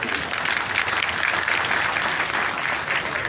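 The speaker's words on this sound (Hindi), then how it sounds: "आप ताली बजाएंगे तो आपका भी तालियों का स्वर उनके कानों में पड़ेगा" An audience at a district crime prevention committee meeting at the Reserve Police Lines, Magh Mela, Sangam, claps in loud, dense, sustained applause. The clapping continues throughout without a pause.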